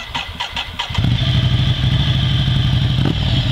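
A Ducati 797 A2 motorcycle engine starting: a few rapid starter cranks, then the engine catches and settles into a loud, close, steady rumbling idle with a faint rise near the end.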